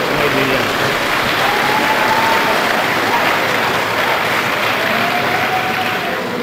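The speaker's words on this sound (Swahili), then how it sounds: "Makofi aongezwe makofi jamani." An audience at a Zanzibar constitutional forum with the new constitution's commissioners breaks into sustained applause, a dense wash of clapping that holds steady at full strength throughout, with faint voices mixed in.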